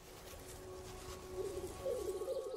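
A male black grouse gives its bubbling, cooing spring mating call, a soft low warble that grows louder and more rolling near the end over faint background hiss.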